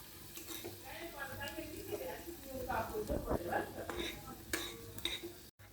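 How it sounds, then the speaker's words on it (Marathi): Chopped onions sizzle in a hot pan while being stirred and tossed until reddish, with close scraping strokes against the metal and a voice talking over the frying. "फायनली कांदा टाकलेला आहे टोटल. तर त्याला परतून घ्यायचं थोडंसं रेड रेड होतपर्यंत"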